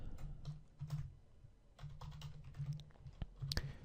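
Keys tapped in quick bursts on a computer keyboard while someone writes code, close and fairly soft, with short pauses between runs of clicks.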